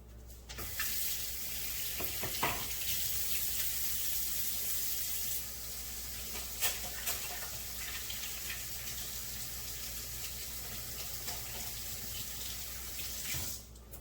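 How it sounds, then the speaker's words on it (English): Tap water runs steadily into a kitchen sink for hand washing during shrimp and polenta prep, a continuous close splashing hiss with a few brief clatters and no talking. "Let me wash my hands again."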